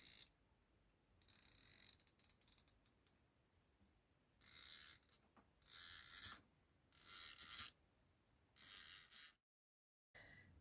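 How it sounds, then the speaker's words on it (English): A tracing wheel runs along a seam line on fabric in a quiet room, producing faint, close, ratcheting clicks in several separate passes of about a second each with short pauses between them. "I can run the wheel along the original line and add my seam allowance."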